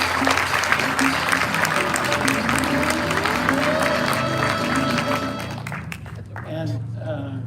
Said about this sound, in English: take their due accolades with a good round of applause